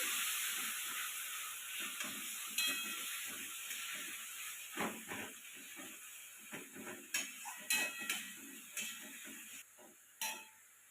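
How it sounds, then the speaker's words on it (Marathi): Tomatoes tossed into a hot pan for a village-style brinjal bharit: a steady steam hiss and sizzle underlies repeated scraping and mixing strokes from a spatula, close and moderately loud, with no talking. "हे टमाटर आपण याच्यामध्ये टाकून घेऊ छान मिक्स करून घेऊ"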